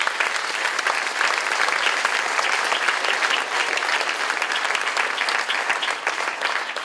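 Audience at the closing ceremony of a wine-country film festival applauding volunteers, a sustained, even wash of many hands clapping with no break for nearly seven seconds.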